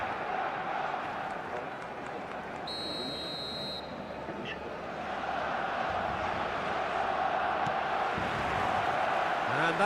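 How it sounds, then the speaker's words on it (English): Dense, steady roar of a packed stadium crowd in the football game eFootball 2026, rising slightly louder partway through and carrying on without a break, with a brief tonal buzz near the start. "The stadium is full of noise and energy."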